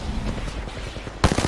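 Gunfire in the video game Apex Legends, with a quick string of shots at moderate distance followed by a sharper, louder burst near the end.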